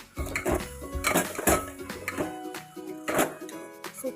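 A spoon stirs veg pulao with mint and coriander in a metal pot, producing repeated close clanks and scrapes in an uneven rhythm, loud against a quiet kitchen.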